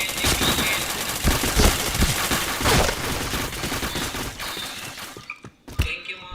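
Sustained automatic fire in a shooter game, rapid overlapping shots and thuds that stay loud, then thin to a few isolated cracks with a brief near-silent gap at the end; a voice is faintly present.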